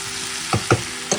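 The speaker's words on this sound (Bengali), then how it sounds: "এই যেখানে আলু পেঁয়াজ ভাজা করছি" Potatoes and onions fry in a pan with a soft, steady sizzle, broken by three sharp stirring knocks spaced about half a second apart.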